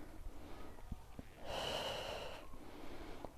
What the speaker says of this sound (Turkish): Nefes al, ver.